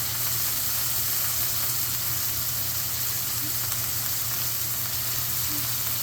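Meat sears in a hot cast iron pan, giving a dense, steady sizzle and crackle with a low hum underneath.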